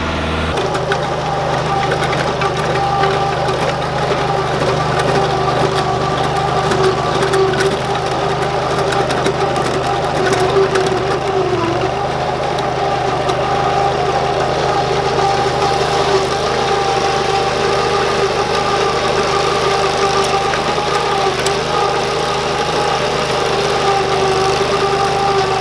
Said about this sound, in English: We're going to be using, of course, the Kubota.